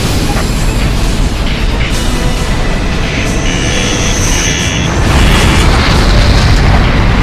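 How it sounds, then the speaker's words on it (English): A massive railgun blast and secondary explosion in the Ace Combat Infinity flight game roll out as a loud, continuous rumbling boom that stays dense and heavy throughout, swelling slightly toward the end, with faint jet noise mixed in. "Be advised, the railgun blast disseminates flammable gas into the atmosphere, triggering a large secondary explosion."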